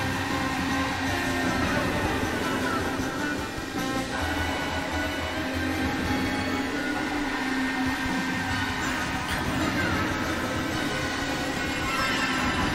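A train in a Mario Kart race rumbles steadily along the track, loud and close, with a continuous rolling drone and clatter that lasts the whole stretch and carries no talk.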